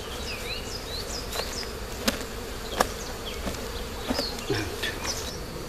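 Honeybees fan their wings at a hive entrance after a swarm has been shaken in, a steady close buzzing drone with individual bees whining past and a few soft knocks.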